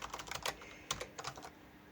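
Quiet bursts of keystrokes on a computer keyboard as code is entered, a quick cluster of clicks, a pause, then a few more taps.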